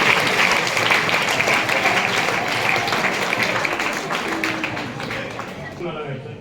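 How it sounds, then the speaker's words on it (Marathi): A school audience claps loudly and continuously for a student, a dense burst of applause that slowly fades over several seconds. "तर टाळ्या वाजवा या मुलासाठी"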